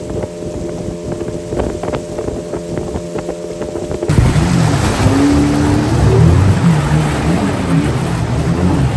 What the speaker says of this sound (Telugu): మన లాడ్జ్ నుంచి 2 బోట్స్లో బయలుదేరాం